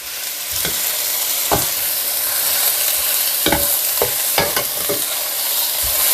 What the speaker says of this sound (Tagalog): keep mixing the meat with the onions and garlic